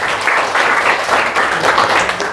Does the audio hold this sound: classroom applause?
yes